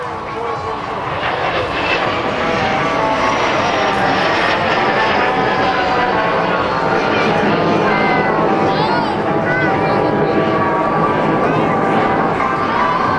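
A pair of MS760 jets passes in formation at a military air show. Their roar is loud and sustained, swelling slightly as they go by, and an announcer talks over it.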